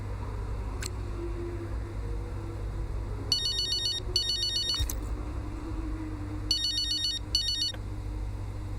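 A phone ringtone sounds inside the F1 25 racing video game, two short pairs of bright electronic trilling bursts over a steady low hum and hiss, with gaps of quiet between the rings.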